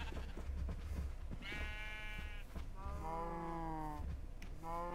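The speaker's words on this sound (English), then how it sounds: "The sheep is trampling our store supply." Sheep in the video game Minecraft bleat in several drawn-out, wavering calls, loud and close over a steady background rumble.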